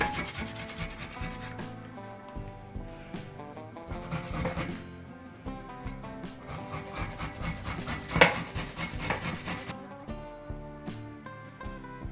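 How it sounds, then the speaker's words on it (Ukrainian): Two garlic cloves are rubbed against a grater in a home kitchen, giving a repeated rasping scrape in quick strokes that is close and fairly quiet, with no talk. "стираю два зубчики чесничку"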